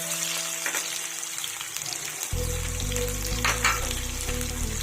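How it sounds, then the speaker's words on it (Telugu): Garlic cloves hit hot oil already holding urad dal and chana dal tempering for an Andhra potato dry fry, a steady broad sizzle that swells and turns louder about halfway through, with low steady cooking noise beneath. "ఇప్పుడు వెల్లుల్లి రెబ్బలను యాడ్ చేసుకుందామండి"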